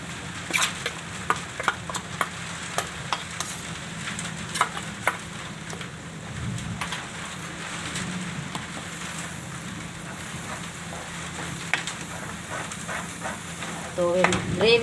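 Masala and gram flour fry in oil in a pan for a Gujarati okra curry, giving a steady close sizzle with frequent clicks and scrapes of stirring throughout, louder toward the end.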